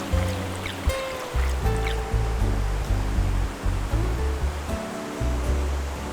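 Rushing water from a waterfall and a river stream in the Hudson Valley keeps up a steady roar throughout, with low rumbling bursts close to the microphone and no voices.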